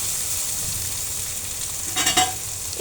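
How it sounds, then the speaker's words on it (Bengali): Loitta dried fish sizzles in hot oil in a pan while it is cooked down. A steady hiss runs throughout, and a brief burst of scraping stirs comes near the end. "এই তো আমি এখন এটাকে ভালো করে কষিয়ে নেব"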